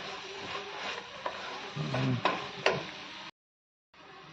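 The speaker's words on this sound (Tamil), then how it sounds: "இதை 2 நிமிஷம் வதக்கி விட்டால் போதும்." Mushrooms sizzle and get stirred in a hot pan for a biryani, with steady frying crackle and a few scraping stir strokes before a brief cut to silence.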